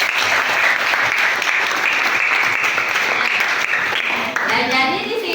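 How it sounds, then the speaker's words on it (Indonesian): Children in a classroom clap together in dense, steady applause throughout, fairly loud and close, with a few young voices rising near the end. "kita perlu tepuk tangan buat"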